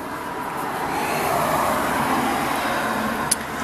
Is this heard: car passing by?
yes